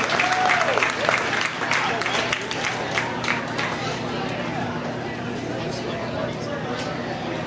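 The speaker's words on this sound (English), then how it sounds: "Let's give him a well-deserved round of applause." Crowd applause for the winning hog at the Mason County Fair 2024 hog show, loud clapping at first that thins into scattered claps under crowd chatter and people talking nearby.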